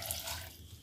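Water is poured into a pressure cooker holding pieces of raw mango for aam panna, a brief steady splashing and trickling close by, with no talk over it.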